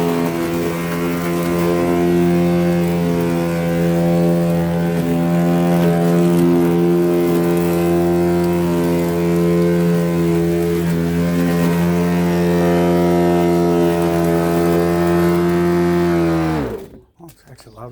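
A vintage electric lawn mower runs with a steady, loud motor hum and strong droning tone throughout, then abruptly shuts off near the end.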